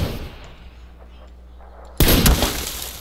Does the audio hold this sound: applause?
no